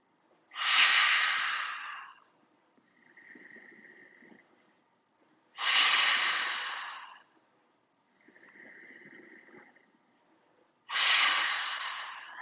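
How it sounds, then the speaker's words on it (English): Slow, calm breathing during gentle shoulder and neck stretches: three long, airy exhales out through the mouth alternating with quieter inhales through the nose, close and steady with nothing else heard. "we're going to do a few inhales through the nose and out through the mouth"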